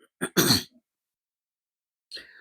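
A short, harsh throat clearing up close, two quick rasping bursts, followed by silence and a faint breathy sound.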